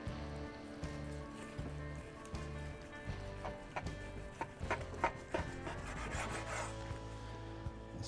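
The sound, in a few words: knife slicing glazed spiral ham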